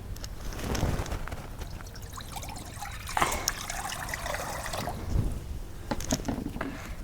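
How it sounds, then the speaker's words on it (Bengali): Water poured into a wok on a traditional wood-fire stove for cooking bou bhat, a continuous splashing trickle over several seconds with some clatter, close and moderately loud. "এখন আমি কড়াইয়ের মধ্যে পানি দিয়ে দিই"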